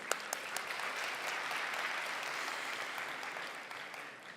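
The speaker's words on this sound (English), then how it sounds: "A round of applause to everybody." Sustained audience applause at a large international forum in Istanbul, dense steady clapping filling the hall with a few sharper claps standing out, holding at an even level throughout.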